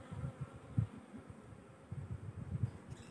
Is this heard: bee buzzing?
yes